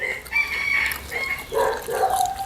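A Phu Phan black chicken crows nearby in a drawn-out cock-a-doodle-doo, with a second crowing phrase and some clucking following, moderately loud and without talk.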